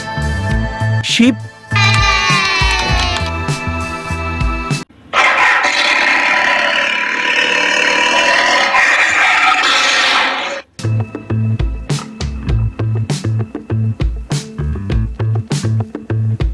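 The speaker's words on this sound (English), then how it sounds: "It is tiger." A tiger gives a loud, rough roar or growl lasting about five seconds, set between stretches of bouncy background music.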